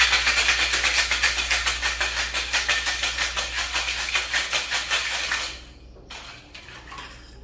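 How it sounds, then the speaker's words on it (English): Orange-bitters cocktail rattling in a shaker with ice, a fast steady rhythm of loud clattering strokes for about five seconds, then stopping, followed by a few faint clinks. "Shake it up without the Coke, of course, because, it would go everywhere."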